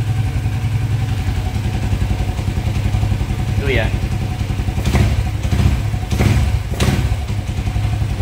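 Motorcycle engine idling unevenly because of a faulty racing throttle position sensor, a steady close engine drone with a few thumps and clatters, while someone speaks briefly over it.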